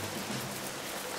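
Children rub their hands together to imitate rain, making a steady, dense, hissing rustle that sounds much like falling rain, fairly loud and continuous with no voices.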